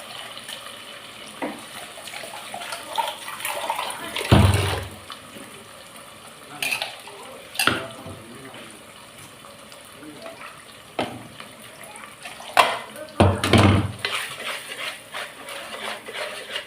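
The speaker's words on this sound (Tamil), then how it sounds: "புளி தண்ணியில் கரைச்சி கொஞ்சம் ஊற்றிட்டு" Tamarind water poured into a pot of fish kulambu cooking on the stove, soft liquid sloshing and a few louder splashing bursts amid light kitchen clatter and stirring.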